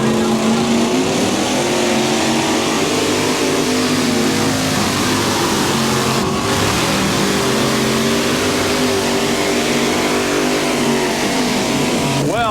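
An 1,850-pound mini rod pulling tractor revs hard at a national tractor pulling championship in Bowling Green, Ohio, a loud, continuous, near engine roar with shifting pitch throughout.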